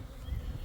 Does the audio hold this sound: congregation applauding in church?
no